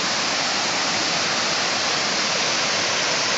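Kuang Si Falls waterfall, a dense, loud, unbroken rush of falling water, steady throughout with no voices.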